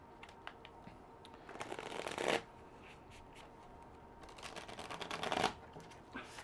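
Munchkin game cards being shuffled, two riffle shuffles each building to a sharp flurry and snap, with soft card handling between them, close and fairly quiet.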